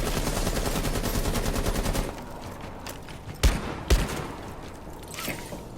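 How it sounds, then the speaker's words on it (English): Gunfire in Rainbow Six Siege on the Kafe map, loud and dense for the first two seconds as a window is shot open, then quieter with two sharp bangs and a few scattered impacts. "Shoot this window open."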